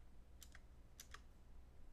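A few quick computer keyboard keystrokes in two short clusters, faint and close, over a low steady background hum while someone types during a game of building a mothership.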